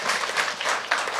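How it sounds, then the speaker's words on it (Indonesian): Congregation applauding during a church service, a brief burst of clapping that sounds soft and diffuse, heard alone with no talking over it. "Berikan tepuk tangan kita untuk Tuhan kita."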